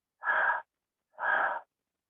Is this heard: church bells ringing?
no